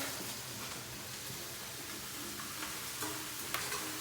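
Frozen peas tipped into a pan of softened, translucent onions give a steady soft sizzle with faint clicks and ticks, fairly quiet and close, with no voices over it.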